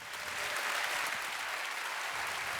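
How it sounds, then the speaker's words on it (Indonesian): A studio audience on an Indonesian talk show applauds for politician Ridwan Kamil, producing brisk, continuous clapping from many hands at a steady level throughout. "Kasih tepuk tangan Saya untuk kira Kang itu"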